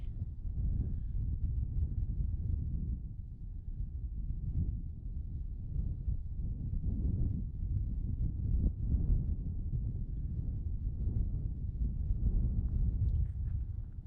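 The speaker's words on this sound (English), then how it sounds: "That wind is cutting through me." Cold wind gusting across an open winter mountain top on Cedar Mountain, a steady low roar buffeting the microphone throughout with no talking.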